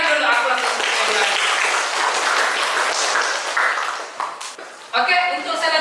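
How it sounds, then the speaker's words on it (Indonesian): Classmates clapping for two students in a classroom, a busy round of applause that fades briefly near the end before voices and clapping rise again. "Berikan dulu aplaus untuk kalian."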